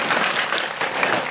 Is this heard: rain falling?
no